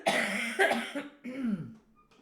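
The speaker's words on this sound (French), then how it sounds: "vais pas arrêter de tousser." A few harsh coughs in quick succession, close by, followed by a raspy throat-clearing sound and a brief pause.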